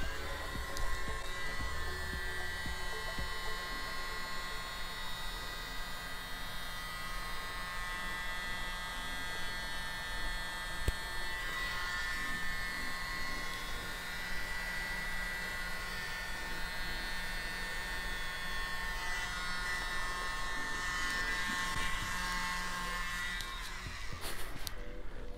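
A small blow dryer blows on an acrylic pour painting, making a steady, whiny electric hum that runs continuously and then cuts off near the end.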